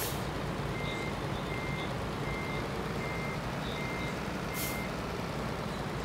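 A truck in a farming video game reverses, its backup alarm beeping steadily at an even rhythm over a constant loud engine rumble, with a short burst of air-brake hiss near the end.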